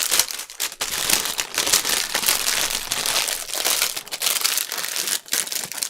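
Paper envelopes crinkle and rustle continuously while being handled during a tidy-up, with close, busy crackling and no talking.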